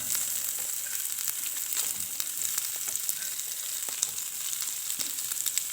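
Shrimp and calamari fry in a pan with butter, giving a steady, close sizzle full of small crackles and pops that runs continuously without voices.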